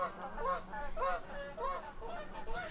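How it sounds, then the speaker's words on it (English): Canada geese honking in the distance behind a drink being mixed, a repeated series of nasal honks roughly every half second, faint and steady over quiet room tone. "Some Canadian geese in the background there."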